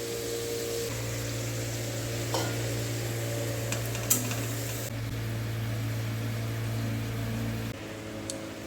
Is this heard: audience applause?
no